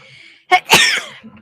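A single sharp sneeze close to the microphone indoors, with a short intake burst followed by the main explosive release, then quiet.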